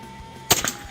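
A single sharp crack of a Satsus P1000 air rifle shot fired outdoors while hunting, a brief snap followed by a quick second impact-like tick, standing alone against quiet background hum.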